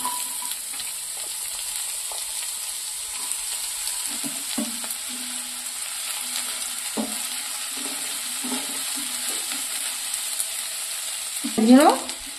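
Finely chopped garlic and onion fry in hot oil for a momo dish, a steady close sizzle broken by occasional stirring scrapes, with no talking.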